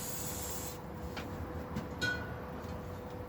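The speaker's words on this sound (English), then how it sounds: "I'm going to spray it over the truss rod." A short, steady hiss of a WD-40-style lubricant sprayed over a guitar truss rod during a late-'60s Strat build, lasting under a second before giving way to quiet room tone.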